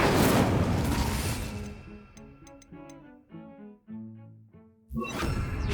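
Spell effects from Hogwarts Legacy burst out: a loud crashing blast, then a run of ringing, shimmering magical tones and thuds, ending in another sharp impact.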